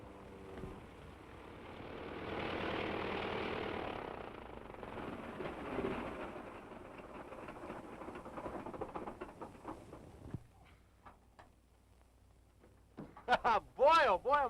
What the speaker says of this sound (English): Sounds like he has engine trouble.